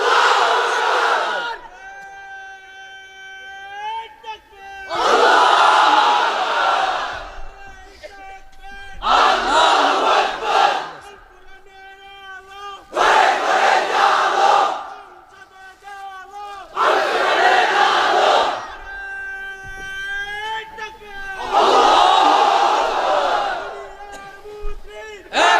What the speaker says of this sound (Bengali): এবার অবিবাহিতরা দাও লিল্লাহি তাকবীর।